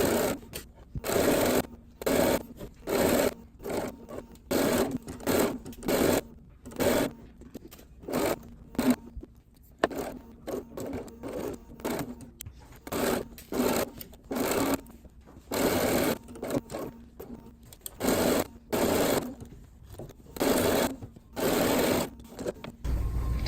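A sewing machine stitches a seam for a homemade tuffet stool in repeated bursts of fast, rattling mechanical whirring, each lasting a second or so and broken by short pauses, loud and close with no voices.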